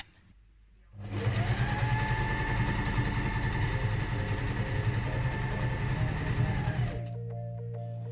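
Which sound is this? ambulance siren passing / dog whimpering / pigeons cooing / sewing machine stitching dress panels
sewing machine stitching dress panels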